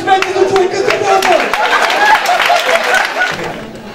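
Audience applause at a Bulgarian stand-up comedy and illusion show, a crowd clapping steadily under a performer's loud speech, tapering off slightly at the end.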